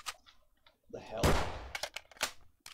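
Gunfire in a Doom multiplayer mod, a loud blast followed by several short sharp shots with quiet gaps between, faint background noise around them.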